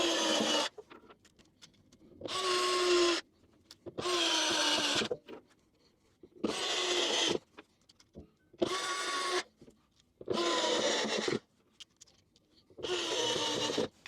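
Screws are driven back into the air filter cover of a Honda CT125 Trail 125 motorcycle: seven close, loud, whirring bursts of about a second each, separated by short quiet gaps, with no talking.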